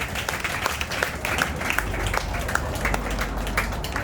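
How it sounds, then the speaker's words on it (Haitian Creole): An audience at a slam poetry evening claps and cheers in a dense, sustained round of applause that fills the whole stretch, fairly close and loud, with a few voices mixed in. "Applaudissez franchement"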